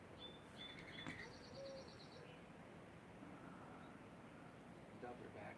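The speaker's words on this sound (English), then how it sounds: "Lots of birds." Several birds chirp and whistle in a backyard, with a few clear tonal calls early on over a quiet, steady outdoor hush.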